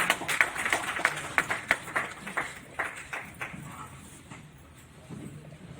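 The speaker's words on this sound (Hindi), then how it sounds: "के लिए जोरदार तालियां।" An audience clapping in a hall at a book launch ceremony, a light scatter of distinct claps close together that thins out and fades after a few seconds.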